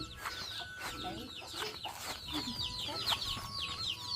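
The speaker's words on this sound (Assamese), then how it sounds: "এইটো আমাৰ মানে চিকেন" Chickens cluck in a village home yard, repeated short calls overlapping close by, with a rooster-like note and other birds chirping in the background.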